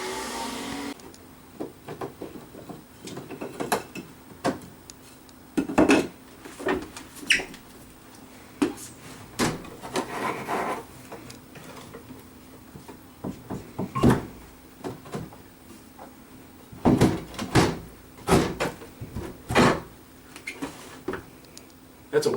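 A wooden center stop is pried out of an old sash window frame, giving a series of sharp wooden knocks, creaks and cracks at irregular intervals up close, with brief quiet stretches between efforts.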